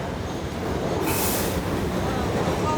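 A New York City subway train rumbles past at close range, a loud, steady roar of wheels on rails that swells midway with a brief high metallic squeal, then keeps rolling.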